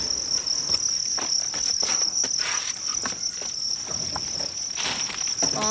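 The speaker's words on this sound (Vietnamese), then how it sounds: "Nhà ông này nuôi nhiều dế quá" Crickets raised in large numbers on a rural farm chirp in a steady, dense, high-pitched trill, loud and close throughout, with soft rustling and light pattering movements underneath.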